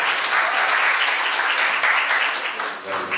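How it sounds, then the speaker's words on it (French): An audience applauds after an entrepreneurial pitch presentation, a dense, steady wash of clapping that fills the room for the whole stretch, loud and continuous. "Simplement, on peut applaudir pour eux,"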